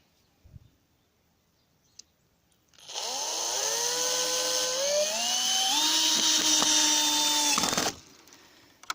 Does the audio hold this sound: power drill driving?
yes